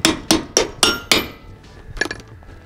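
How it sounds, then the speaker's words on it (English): A steel hammer strikes a bolt in a Dexter trailer axle shackle five times in an even rhythm, each blow a sharp ringing metallic clang, followed by a few lighter clinks of metal parts. "you're gonna have to hammer this bolt out of here"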